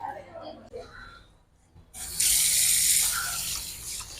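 A tap is turned on and water gushes steadily into a sink, loud and close, after a stretch of quiet talking.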